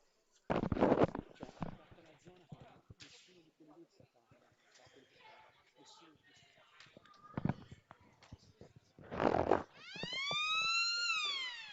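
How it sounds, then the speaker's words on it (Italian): Someone commentates at an Italian Serie A2 basketball game, then the arena siren blasts near the end, loud and sustained, to signal that play resumes. "La sirena dice che si può ripartire."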